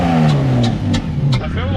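A Toyota 2JZ engine swapped into a Nissan 180SX idles and revs loudly up close, a steady roar with rising and falling pitch, while voices talk over it.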